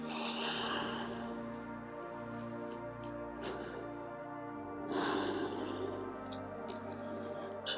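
During a yoga session, a person takes slow, deep breaths close to the microphone. Long airy exhales are clearly audible, with a breathy rush near the start and another around the middle, over a faint steady background hum.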